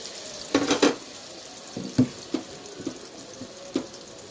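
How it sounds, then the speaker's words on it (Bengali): Black cumin, bay leaf and spices tempering in hot oil in a pan, with soft sizzling and a few distinct crackles and pops spread across the moment, close and fairly quiet. "কালো জিরে ফোড়ন দিলাম, তেজপাতা ফোড়ন দিলাম, বেকিং মশলা দিলাম"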